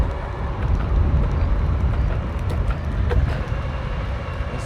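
Steady low rumble of road noise while riding an Onsra Black Carve belt-drive bike uphill, loud and continuous, with faint rattles and ticks riding on top.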